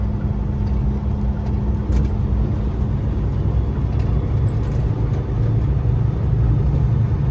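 A Super B truck rumbles past on the road, heard as steady low engine drone and road noise from inside a 2024 Kenworth T880 cab, continuous with no talking.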